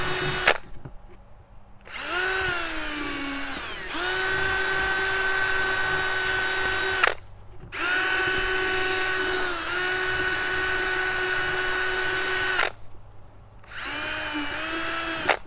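A power drill bores through PVC plastic while building a large bird feeder, whining steadily in three long bursts separated by brief pauses, loud and close with no talking.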